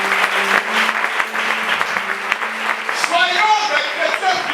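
A church congregation claps steadily together in praise, a dense, close round of applause with voices singing and calling over it.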